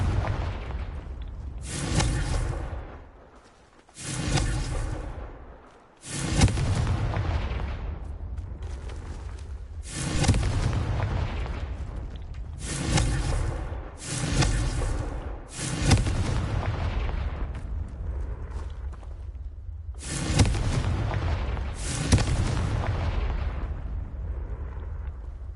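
Confringo blasting spells explode repeatedly in Hogwarts Legacy, a fantasy video game, with about eight loud booming bursts at irregular intervals, each leaving a rumbling tail that blends into a constant low roar.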